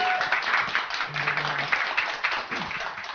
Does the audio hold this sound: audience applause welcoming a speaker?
yes